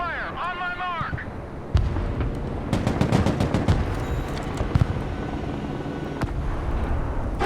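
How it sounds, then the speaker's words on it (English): Artillery fire in the military strategy game Broken Arrow, with MLRS rockets: a burst of rapid, crackling detonations and rumbling booms follows a short radio-style tone, then heavy rolling fire continues at a steady, moderate level. "Artillery ready to fire, sir."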